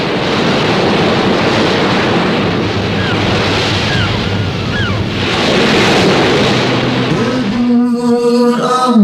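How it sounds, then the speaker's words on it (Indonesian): White surf breaks steadily on a beach, a loud, broad wash of crashing waves and wind noise, then gives way at the end to a sudden tonal musical sound. "Ombak putih mengepas pantai"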